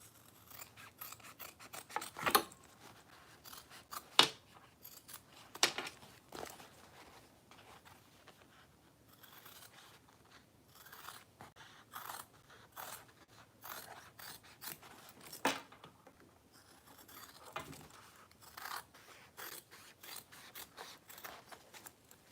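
Scissors trimming fabric for a mini box tote, a series of crisp snipping cuts spaced irregularly over quiet background, some sharp and close, others softer.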